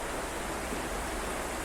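Rushing river water flows steadily past a riverside campsite, a continuous broadband wash that stays constant and fairly close with no talk over it.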